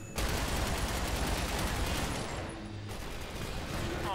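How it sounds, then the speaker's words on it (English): Dense gunfire in the shooter game The Bureau: XCOM Declassified, rapid overlapping shots forming a loud, continuous fusillade that thins briefly near the end. "Well, shoot them, dude."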